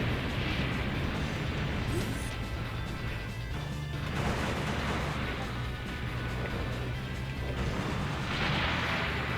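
Missile hits on a Zoid in the video game Zoids Battle Legends, dense crashing explosions over continuous rumbling battle noise with engine-like drones, steady and moderately loud throughout.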